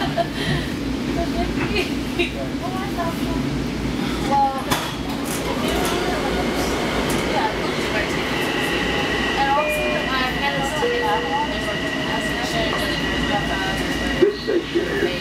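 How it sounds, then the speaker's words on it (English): A Long Island Rail Road Babylon Branch commuter train rumbles along steadily between Amityville and Babylon with rattling and squealing wheels, loud and close from inside the car, with brief talk over it. "This is the train to Babylon."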